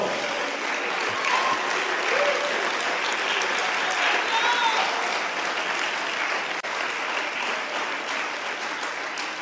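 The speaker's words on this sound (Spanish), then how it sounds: "Dale un aplauso al Señor Jesucristo." A church congregation claps in sustained, dense applause throughout, loud and steady, with some voices mixed in the crowd noise during a Christian sermon service.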